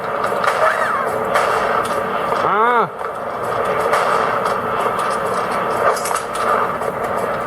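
Quake 3 gameplay on a Gateway NV53A laptop produces dense weapon fire and explosions from a grenade launcher, with a descending whistling sweep midway, all fairly loud and continuous.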